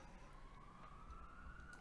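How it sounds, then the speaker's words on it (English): A police siren wails faintly in the distance behind a lighting programming livestream, a thin rising tone under low room noise, with no talk. "police sirens in the back go off"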